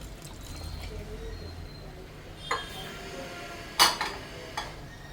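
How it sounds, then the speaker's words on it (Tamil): Water pours softly into a pot of prawn curry, with a few sharp metallic clinks of utensils against the rim partway through. "இன்னும் கொஞ்சம் கூட தண்ணி ஊற்றலாம்"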